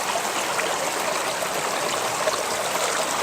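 Water rushes continuously through a fluid bed gold sluice, a 3-foot River Bed Hog with a 23-inch Paystreak Finder, at modest pressure. It makes a steady, close, bright stream-like gush with no pauses.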